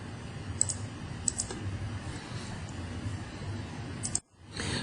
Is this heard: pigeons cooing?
no